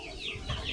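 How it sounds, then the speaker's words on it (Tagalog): Young chicks over a month old in a brooder on a farm give soft clucking and cheeping calls, brief and faint, lasting under a second with no talk. "Pasilip tayo sa mga sisiyo natin sa brode."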